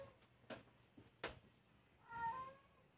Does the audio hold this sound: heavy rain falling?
no